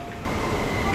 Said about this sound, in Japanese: 1番線には本日の蘇我駅最終電車が到着となります。